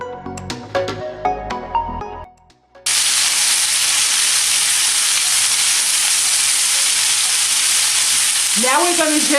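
Chicken pieces browning in a hot frying pan for a spicy Moroccan-style dish, a loud, steady, close sizzle that starts abruptly after a few quieter kitchen knocks and continues unbroken, with a brief tonal squeak near the end.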